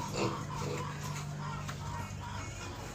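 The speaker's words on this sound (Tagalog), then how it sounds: "So may baboy pala sila dito guys." Pigs grunting in a pen on a rural farm, low snorting oinks mixed with other livestock and background noise, fairly close, with people talking nearby.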